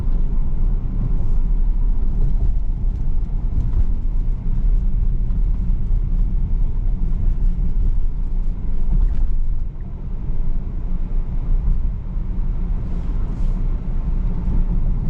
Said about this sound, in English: I'll just keep my foot on the gas for a minute.